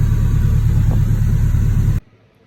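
A high-spec car engine runs a heat cycle after a rebuild, a loud steady rumble that cuts off abruptly after two seconds, leaving near silence.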